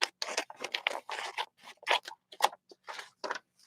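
Close, crisp snips of scissors cutting near a paintbrush, a quick series of separate crunchy cuts with short pauses between them.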